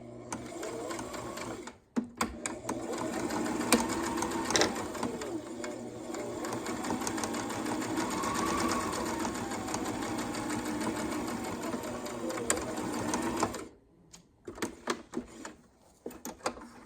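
A sewing machine runs steadily for about twelve seconds, stitching the strap pouch on a small bunny-themed mini apron, then stops; a few quieter handling clicks and fabric shuffles follow near the end.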